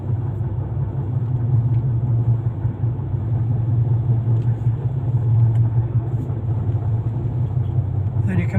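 Steady low engine rumble and road noise from inside a car driving on a road past slow tricycle taxis, unchanging throughout with only faint high ticks.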